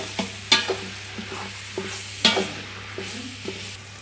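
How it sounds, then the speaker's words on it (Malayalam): Chicken stirred in a sizzling pan for kapsa, with a low frying hiss under repeated spatula scrapes and two sharp metallic clinks, close and rhythmic, no talking. "ഇപ്പം നമ്മളിതിലേക്ക് ചിക്കൻ ചേർത്ത് കൊടുക്കുകയാണ്. നന്നായിട്ടൊന്ന് ഇളക്കി കൊടുക്കണം."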